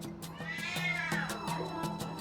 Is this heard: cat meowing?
yes